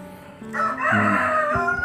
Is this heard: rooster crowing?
yes